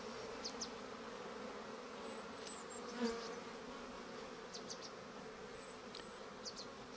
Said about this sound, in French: les abeilles profitent, elles ramènent beaucoup de pollen